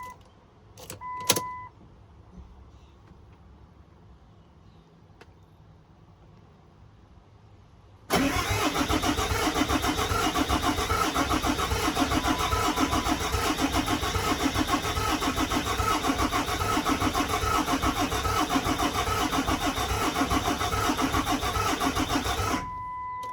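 A cheap Cummins diesel engine cranks and fires, then settles into a loud, steady idle that runs for about fifteen seconds before cutting off, after a few quiet clicks and a short whir beforehand.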